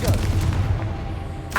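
A Confringo spell blast in Hogwarts Legacy lands as a loud, booming explosion with a low rumbling body, and a second burst follows right at the end.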